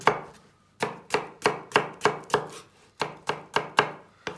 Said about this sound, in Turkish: soğanlarını biraz iri doğrayacağız